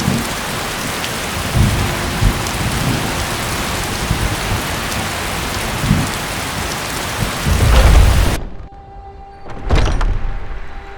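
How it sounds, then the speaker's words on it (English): Steady heavy rain and rolling thunder fill a stormy scene in the video game Skyrim, with a few louder thunder swells before the storm cuts out briefly and a final rumble returns. "Oh, great. Rain."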